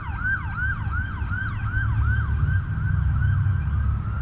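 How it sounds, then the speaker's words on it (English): An ambulance siren wails in a repeating yelp, rising and falling steadily near the Fort Stanwix Visitor Center, over a constant rumble of traffic, with no one speaking. "And I hear an ambulance."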